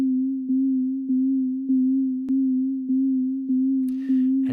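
Steady pure sine-wave tone looping in adaptive game music playback, held continuously with soft rhythmic pulses about every half second, clean and alone until a brief burst of noise near the end.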